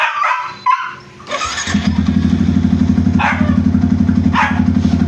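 A Yamaha MT-15 motorcycle engine starts up and idles roughly with a fast ticking rattle, preceded by a few short barks and brief revs; the bike stalls when given throttle after getting wet.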